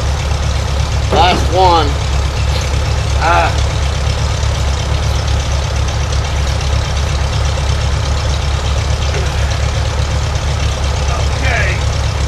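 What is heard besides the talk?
two tractors running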